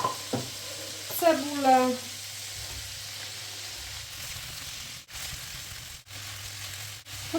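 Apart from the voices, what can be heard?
sausage and carrot frying in pan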